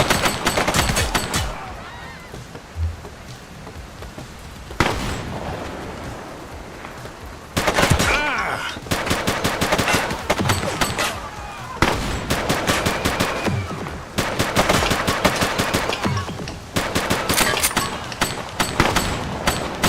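Rapid gunfire in The Precinct, a police video game, with dense automatic bursts and single shots repeating loudly across the whole stretch, broken by brief pauses, with faint voices underneath.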